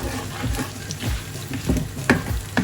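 Chicken, pork and cauliflower rice with egg being stir-fried in a pan, loud sizzling broken by repeated rhythmic scraping and tossing strokes, close by with no talk.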